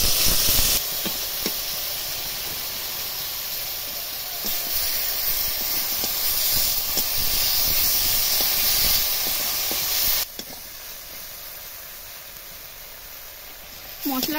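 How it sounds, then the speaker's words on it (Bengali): Turmeric and chili spice paste frying in a pan, a steady broad hiss and sizzle that holds for most of the clip and drops lower near the end, with no talk over it. "মশলাটা ভালো করে কষিয়ে নিয়েছি"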